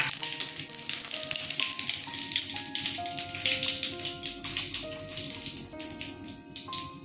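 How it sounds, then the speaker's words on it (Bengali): Cumin seeds, dried red chilli and bay leaf sizzle steadily in hot mustard oil, a loud, close, dense crackle with fine popping that holds throughout, while gentle music plays underneath. "জিরা ফোড়ন দিয়ে দিলাম।"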